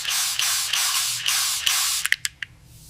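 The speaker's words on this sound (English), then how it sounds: "A spray bottle spreads liquid." A spray bottle hisses out liquid in several steady bursts, followed by a few short, sharp trigger squirts that trail off into quiet.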